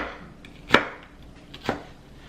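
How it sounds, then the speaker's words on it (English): A knife chops through a large onion on a cutting board, giving two distinct, fairly soft knocks about a second apart over quiet room noise. "I got a really big onion here. We're just gonna cut these into strips."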